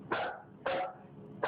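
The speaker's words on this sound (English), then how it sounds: "He's just barking at the painting" Dog barking indoors in three short, evenly spaced gruff barks about half a second apart, moderately faint, with no speech over them.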